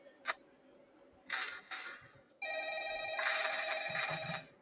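A phone rings in a horror video game, bursts of bright electronic ringing with short pauses and then a sustained ring, fairly loud and alone.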